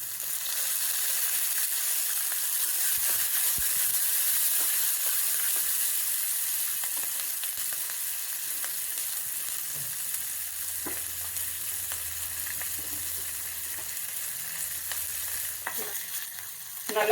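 Ginger and green chillies sauté in hot oil in a pan for a Karnataka-style bonda soup, giving a steady, close sizzle and crackle that runs throughout with a few light stirring knocks and no talking.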